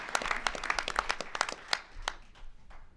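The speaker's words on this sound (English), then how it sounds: "How about a big round of applause to the employees of the town of Taos?" Applause for the town employees at a state of the town address in Taos, with a handful of distinct hand claps close by that thin out and fade toward the end.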